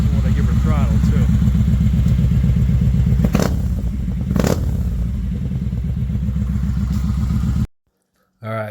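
A 2022 Kawasaki Vaquero fitted with a Freedom Performance 2-into-1 Combat exhaust idles in a deep, steady, loud rumble close by, with a couple of sharp crackling pops on throttle before the sound cuts out.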